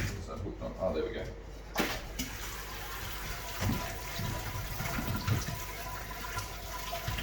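Wort drains and trickles from a lifted grain basket during home brewing of an oat cream IPA. The steady splashing runs throughout under a voice and some clunking.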